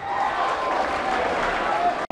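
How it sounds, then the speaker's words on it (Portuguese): Audience applause at a head-to-head competition show: steady, dense clapping from a crowd for about two seconds, cutting off abruptly. "As palmas, minha gente."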